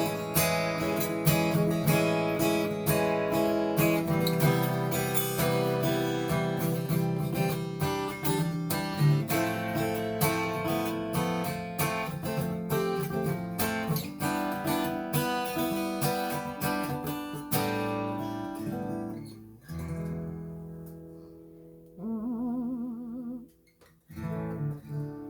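A 2013 Fender FA-100 acoustic guitar plays a steady strummed and picked passage with ringing chords that gradually thin out and fade near the end.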